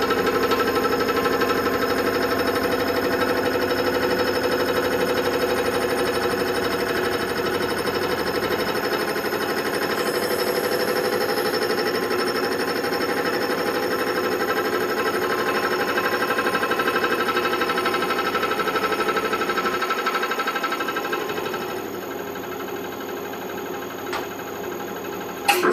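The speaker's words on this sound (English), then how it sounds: "These type of cutters are always happier when they're running on a complete surface without any holes" A milling cutter machines a metal part for a printing press with a steady droning, whirring hum and a faint rattle, continuous and close, easing off near the end.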